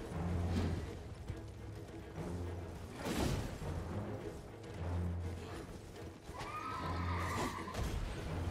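A horse in the video game Elden Ring, with clip-clopping hooves and combat clatter, then a loud, wavering neigh near the end, close and clear over game sound effects.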